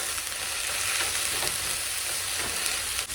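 Zucchini sizzles steadily in a hot pan, a dense continuous frying hiss with soft stirring scrapes mixed in, close and even throughout.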